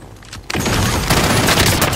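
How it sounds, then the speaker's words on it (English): A flashbang grenade detonating in a helicopter-assault video game, a sudden sharp blast that gives way to a dense, sustained roar of loud noise and gunfire. "Flashbang out!"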